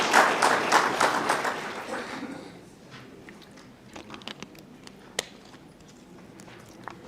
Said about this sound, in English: can we please clap hands for our government?